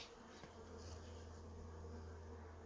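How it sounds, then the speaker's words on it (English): Bees buzz continuously and fairly close around an open beehive during a gentle hive inspection, a dense steady drone with no pauses. "if there's bees in your way, you just kind of scoot them out of the way"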